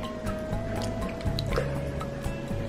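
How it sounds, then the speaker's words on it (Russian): Hands dipped and moved in a salt water bath make soft close sloshes, drips and gentle splashing in a small basin, with no talking. "Теперь опускаю ручки в воду и делаю ванночку, солевую ванну."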